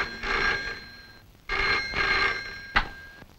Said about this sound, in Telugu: అదిగో ఫోన్ మోగింది